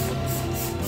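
A spray bottle hisses in one steady, continuous burst close by in a toilet area, with a broad airy noise and no voices.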